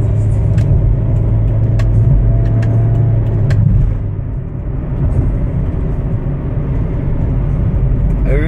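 A Hyundai Tucson with about 70,000 km on it drives along, giving a steady low road rumble and engine drone that stays loud and continuous throughout, with a slight dip midway.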